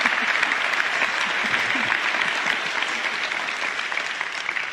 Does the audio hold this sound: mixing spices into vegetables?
no